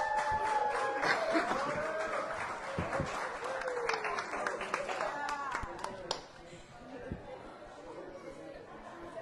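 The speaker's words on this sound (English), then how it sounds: "give yourselves a round of applause" Crowd applause at the Frog and Firkin after a show, a dense burst of clapping and cheering that thins toward the end, with chatter and voices on top.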